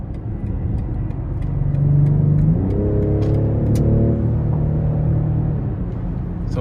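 A 2023 BMW X6 xDrive40i M Sport with a 3.0-liter turbo inline-six accelerating in sport mode onto an interstate, engine droning and rising in pitch through a gear change, heard steadily from inside the cabin.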